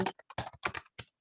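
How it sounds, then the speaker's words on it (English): Typing on a computer keyboard, a short burst of quick, light key clicks in an uneven rhythm, close and fairly quiet, with no one talking. "I'm just going to type in here"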